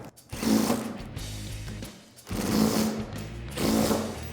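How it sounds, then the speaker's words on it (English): Ratchet tightening strut nuts during a front suspension lift on a Toyota Tacoma, giving three bursts of close, rapid mechanical clicking separated by short pauses. "what we can do is take an impact wrench or a ratchet and tighten those up."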